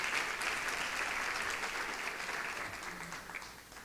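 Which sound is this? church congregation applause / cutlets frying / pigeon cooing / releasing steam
church congregation applause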